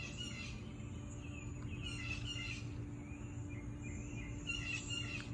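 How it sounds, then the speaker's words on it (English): Small birds chirp and tweet outdoors in nature, faint and scattered over a steady low background hum, with occasional insect-like buzzing. "Let's welcome the birds"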